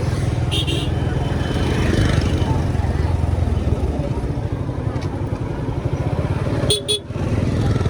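A motorcycle engine drones steadily through busy traffic, with short horn honks near the start and again near the end.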